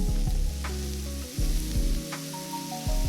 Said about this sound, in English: Now let's stir the chicken.